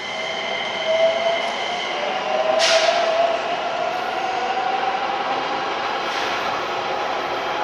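A train in Nishi Otsu, Shiga, Japan rumbles steadily nearby, wheels whining and squealing in drawn-out high tones over the continuous roll of the cars.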